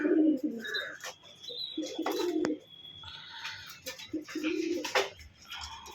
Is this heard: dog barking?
no